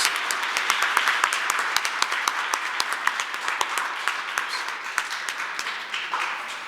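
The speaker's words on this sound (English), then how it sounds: "Let's give them a round of applause." A crowd applauding steadily at an outdoor holiday tree lighting ceremony, many hands clapping together in a dense, sustained burst that tapers slightly toward the end.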